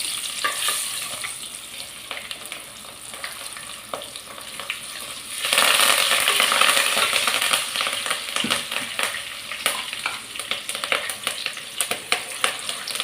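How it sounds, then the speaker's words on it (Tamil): Mustard and fenugreek seeds splutter in hot oil in a pan, sharp irregular pops and crackles over a steady sizzle that swells louder midway and keeps popping to the end, with no talking. "கடுகு பொடிஞ்சிச்சு."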